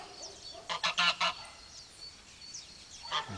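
A goose honks in a short cluster of loud, harsh calls near a lake, then gives a few fainter calls and one more honk at the end, with no talk over it.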